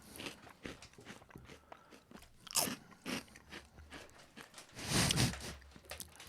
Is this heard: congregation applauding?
no